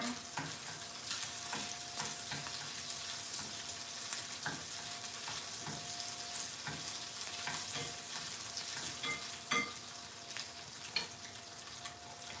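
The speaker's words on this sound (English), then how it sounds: "let me give it a little stir" Food frying in a home kitchen pan, a steady bright sizzle with irregular scraping and clinks of a utensil stirring through it, close and continuous with no talking.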